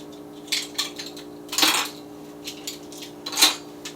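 A spoon stirs salt into flour in a mixing bowl for cinnamon rolls, with a few scattered clinks and scrapes against the bowl over a quiet background and no voices.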